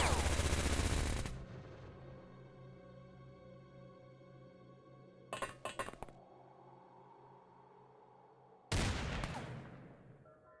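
Bursts of automatic gunfire in the X-Com Files game: a loud opening burst, a quieter rattling volley midway, then another sharp burst that rings out and decays.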